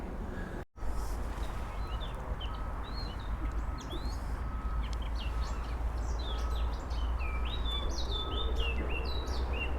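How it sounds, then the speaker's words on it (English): Small birds chirp and tweet in scattered bursts over a steady background hum inside a big shopping centre, with a brief dropout near the start. "Can you hear the birds?"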